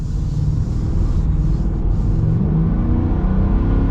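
A 2025 Ford F-350 single cab with a V8 engine driving on the road, a steady loud low rumble of engine and road noise from inside the cab, with no voices.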